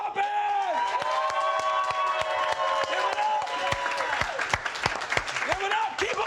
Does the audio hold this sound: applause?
yes